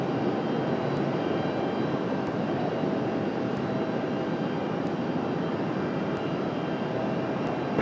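Alaska Airlines flight 430 from San Diego arriving at Raleigh-Durham International, a steady loud jet engine roar holding constant throughout with no voices.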